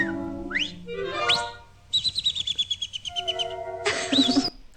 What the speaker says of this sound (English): What did the bird say there?